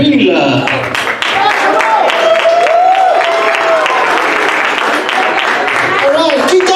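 A casino showroom audience applauds a comedian, with steady loud clapping and crowd noise throughout while a host talks over it.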